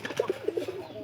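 Pigeons cooing in a loft: a short series of soft, low, rounded coos in quick succession, close and clear with no talk over them.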